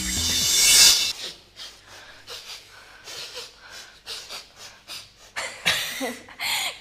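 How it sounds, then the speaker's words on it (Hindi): A dog pants with its tongue hanging out, giving quick rhythmic breaths at close range in a steady series of short huffs. "कुत्ते के स्वेट ग्लैंड्स सिर्फ पंजों में हैं, इसीलिए वो जीभ बाहर लटकाकर हाँफता है"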